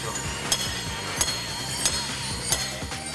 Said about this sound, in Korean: 망치로 있는 힘껏 두드려도 절대 깨지지 않습니다